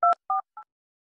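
Keypad tones sound as a number is dialed on a mobile phone: three short, clean beeps in quick succession, each fainter than the last, with nothing else around them.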